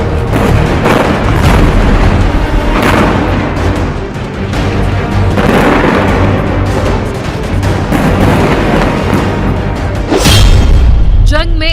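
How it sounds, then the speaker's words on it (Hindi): Booms and rumbling blasts from Israeli airstrikes on Gaza, loud and dense across the whole stretch, with a sharp heavy burst near the end and voices or a news report mixed in under the din. "गाजा पर इजरायल के हवाई हमले।"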